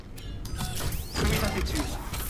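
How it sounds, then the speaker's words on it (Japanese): A printer assembly machine in the video game The Callisto Protocol powering up: loud, continuous mechanical whirring and ratcheting with a rising whine partway through, clanks layered over a dense low rumble. "プリンターアセンブリを起動中。"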